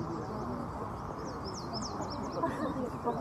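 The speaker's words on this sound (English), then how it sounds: "This is a black-throated green warbler." A black-throated green warbler singing a quick series of thin, buzzy rising notes during spring migration, faint and somewhat distant over steady crowd murmur and wind-like background noise.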